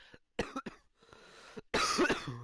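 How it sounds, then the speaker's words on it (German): A man coughs repeatedly in short bursts during a FIFA 20 livestream, with a few soft throat sounds in between and a louder, rougher cough cluster at the end; no other talk is heard. "mein Husten, der regt auf"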